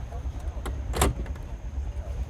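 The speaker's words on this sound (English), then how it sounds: "And these are gull wing doors? Yep. Open one of those babies up." A hot rod's gull-wing door swings open with a short mechanical whoosh and click over a low idle hum.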